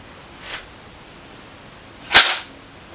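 Bolt of a Remington 715 rifle chambered in 7mm Remington Magnum being opened, giving a faint metallic click followed by one sharp, louder snap of the action, near and alone.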